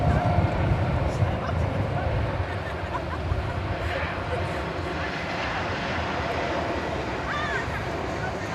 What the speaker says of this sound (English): Spirit flight coming in from Las Vegas there in the foreground